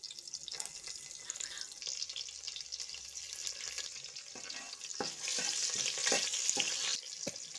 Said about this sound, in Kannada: ಫ್ರೈ ಆದ ನಂತರ ಸಣ್ಣದಾಗಿ ಜಜ್ಜಿಟ್ಕೊಂಡಿರುವಂತಹ ಶುಂಠಿ, ಬೆಳ್ಳುಳ್ಳಿ, ಕರಿಬೇವು ಹಾಕಿಕೊಂಡು ಚೆನ್ನಾಗಿ ಹುರಿದುಕೊಳ್ಳಿ